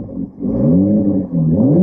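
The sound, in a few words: sports car engine revving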